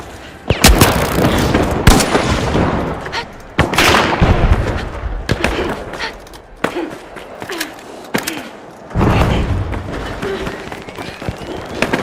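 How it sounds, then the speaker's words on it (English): A flashbang grenade goes off in a competitive shooter match, one of several loud, sharp bursts amid gunfire and game effects that crack out repeatedly and then trail off through the scene. "Flashbang out!"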